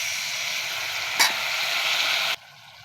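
Tamarind water goes into a hot pan of sour-spicy pangas fish curry, bringing a loud steady sizzle and hiss with a brief splash near the start, then an abrupt cut to near quiet.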